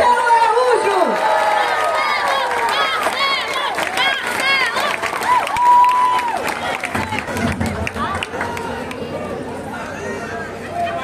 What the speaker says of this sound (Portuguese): Uma salva de palmas, prefeito Marcelo Araújo!